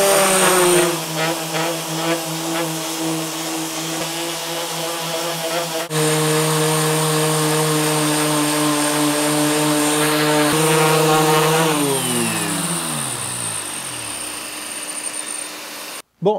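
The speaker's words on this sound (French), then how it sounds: "Chaque ponceuse va poncer un côté de ce bout de bois" Loud, steady motorized whine of a Mirka Deros orbital sander sanding a piece of wood, running continuously, pitch holding steady then winding down toward the end.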